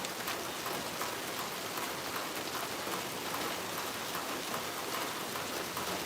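A steady, dense hiss of rain pours down continuously at an even level, fairly faint, with no voices.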